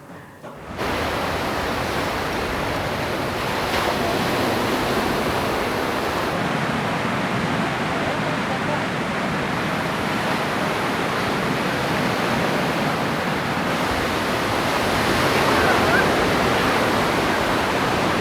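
Sea waves at Manshia beach in Tel Aviv roll in as a steady, loud, broad surf roar with no pauses, continuous from near the start to the end.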